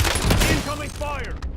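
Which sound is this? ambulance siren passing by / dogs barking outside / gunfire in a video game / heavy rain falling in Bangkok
gunfire in a video game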